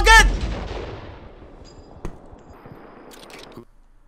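Sniper fire in the video game Just Cause 3: a loud, sharp shot at the start rings out into a long fading echo, then a fainter second crack follows about two seconds later.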